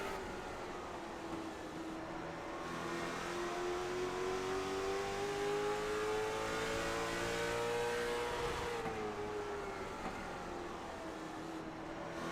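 Onboard roar of the 00 late model stock car's engine, loud and steady at high revs, its pitch climbing slowly and then dropping sharply near the end as the driver lifts, with no voices.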